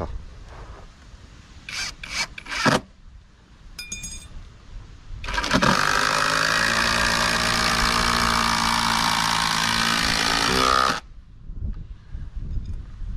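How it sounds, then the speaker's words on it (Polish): A Parkside impact driver on its highest setting drives a long screw, with a sustained loud whirring buzz of about five seconds after some short handling knocks, then a return to quiet. "Teraz na zakrętarce najwyższa wartość 226 i wkręt 260"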